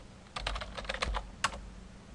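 Passphrase being typed on a computer keyboard: a quick run of close, crisp keystrokes in two short bursts with a brief gap, no voices.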